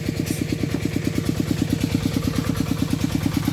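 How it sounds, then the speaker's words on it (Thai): A small engine runs a water pump draining a pond to be dug out, chugging in a steady, even rhythm with a close, constant clatter and no voices. "ตอนนี้ก็สูบน้ำออกก่อน"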